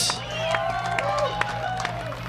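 A racetrack crowd cheers and whoops at an evening event, a loud continuous roar under sharp whistles and scattered shouts.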